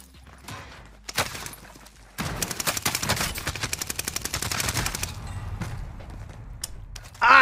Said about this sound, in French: J'ai tiré.